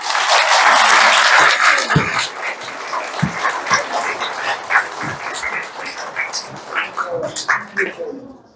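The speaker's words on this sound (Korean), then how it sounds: "마지막 박수는 빨리 끝내라는 뜻일 수도 있고" An audience applauds at the end of a lecture at a massage therapists' continuing-education session. Dense clapping fades into scattered claps with voices murmuring underneath.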